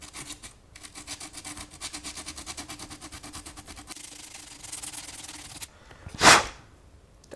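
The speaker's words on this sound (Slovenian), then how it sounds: "Tako da imam ta rob tanek in bom tole lepo zbrusil." The thin plastic edge of a clothes iron's water tank being sanded by hand, a rapid rhythmic rasping close by that stops abruptly, followed by a short loud burst near the end.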